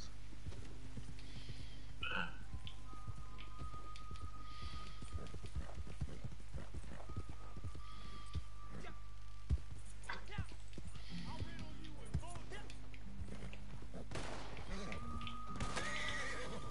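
Clip-clopping horse hooves trot steadily alongside a loud whinny in the video game Red Dead Redemption 2, with a low constant hum and some background voices.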